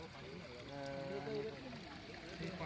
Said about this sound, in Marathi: पूर्ण पाण्याची मेन लाईन जी आहे ती फुटलेली आहे एअरवॉल फुटलेला आहे आणि त्याच्यामुळे आता हे पाणी या ठिकाणावरून वाया जातं आहे